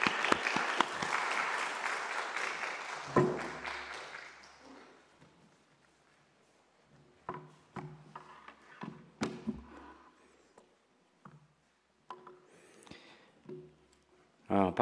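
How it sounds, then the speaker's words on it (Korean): A church congregation applauds, a dense burst of clapping that fades over a few seconds, followed by scattered taps and knocks while someone speaks. "들을 것도 없는데 박수라도 열심히 합시다."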